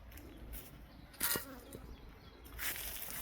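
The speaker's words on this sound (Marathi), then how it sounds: "तर मधमाशीचा कसा आवाज येतो." Honeybees buzz steadily and faintly around a pomegranate orchard in bud, a soft continuous hum with a couple of brief closer passes.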